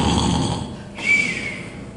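A voice imitates snoring, a low rumbling inhale followed by a nasal snort-like rise, close and fairly loud, with no words.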